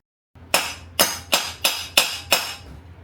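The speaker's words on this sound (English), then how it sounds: "then I decided to pick up a hammer" Six sharp metallic hammer strikes on a stuck wheel of a hurricane-flooded go-kart in an even rhythm, loud and close, each ringing briefly before the next blow.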